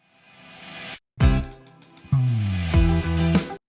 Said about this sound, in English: just do like a reverse reverb on these grungier guitars, on these distorted guitars